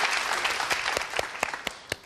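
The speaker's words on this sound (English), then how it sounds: "That round of applause." Audience applause following a tango performance at a dance competition, a dense, steady wash of many hands clapping with a few sharper, louder claps standing out near the end.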